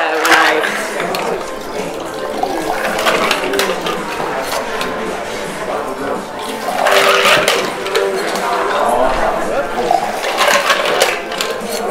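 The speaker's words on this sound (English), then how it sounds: "I'm just going to be throwing it to aerate and to dilute it a little bit, but not too much." An espresso martini is thrown back and forth between metal cocktail tins, making repeated loud splashing pours in a rhythmic stream with faint metallic clinks, recorded close.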